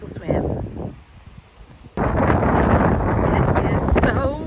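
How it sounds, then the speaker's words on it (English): Strong wind at a lake beach in Trail of Tears State Park buffets the microphone in loud rumbling gusts, easing briefly before roaring back and holding steady. "It is so windy."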